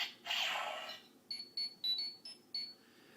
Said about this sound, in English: all the keys except for Super Mega Force are going to play the communicator beep